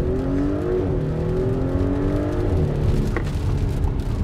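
A 2018 Audi SQ5 accelerating off the line on a rainy day, engine note rising steadily from inside the cabin, loud and continuous with a brief click near the end.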